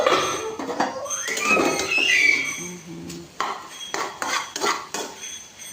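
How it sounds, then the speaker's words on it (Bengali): A metal lid comes off a pot of simmering potato and bottle gourd with poppy seeds, a squeaky metallic scrape and clatter followed by several sharp clinks of utensils against the pot, close and loud. "ঢাকাটা খুললাম"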